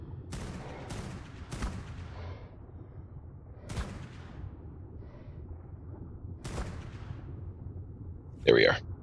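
Scattered gunshots from the Ark Survival Ascended video game ring out in separate sharp cracks, about six over several seconds, with a short burst near the end, under quiet talk from a player.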